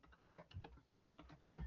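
Typing on a computer keyboard, a quick uneven run of close, soft key clicks in two short bursts separated by a brief pause, with no voices.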